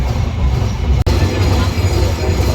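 Continuous loud rumble of an express train rolling along the rails, heard from on board, steady throughout, with one sharp click partway through.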